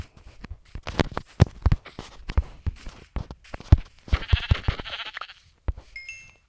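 Minecraft sheep bleat several times in quick succession while being killed, mixed with short thumping impacts and clicks.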